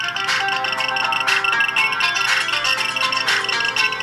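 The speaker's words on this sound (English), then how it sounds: "Okay, so here we have a phone. It's ringing right now." A cell phone rings continuously in a pulsing electronic pattern, close and fairly loud, with no talking over it.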